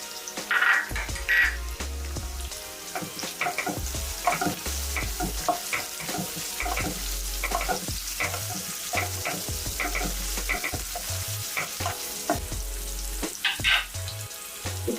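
Finely chopped carrot and cauliflower florets fry in a pan with a steady crackling sizzle, broken by repeated scraping and clattering stirs of a spoon across the metal, close and fairly loud with no voices.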